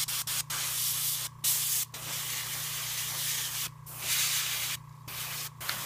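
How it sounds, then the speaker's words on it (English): An airbrush spraying paint onto a Blood Angels Assault Marine miniature, a steady close hiss in several bursts separated by short pauses, over a low electrical hum from a compressor, with no speech. "I can actually kind of push the paint with the airbrush to keep the areas I want a little lighter"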